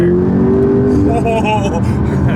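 An 840 hp McLaren 12C accelerates hard, its engine droning loudly as the pitch climbs through the gears, heard from inside the cabin with a person talking over it.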